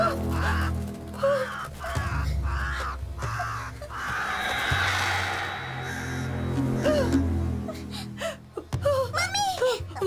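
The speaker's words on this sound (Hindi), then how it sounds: "बस एक कौवा है" A crow caws repeatedly in an open outdoor spot, several rough calls spread across the scene, while people gasp and react fearfully around it.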